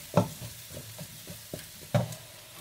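Pumpkin soup being stirred with water in a pot: a few soft, spaced scraping and sloshing strokes, faint and close, with two sharper knocks of the utensil against the pot.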